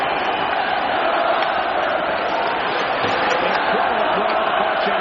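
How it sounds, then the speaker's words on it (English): Hockey arena crowd during a 2002 NHL playoff game between the Maple Leafs and Islanders, a steady, dense roar of cheering fans with no breaks, under faint commentary. "Listen to the crowd."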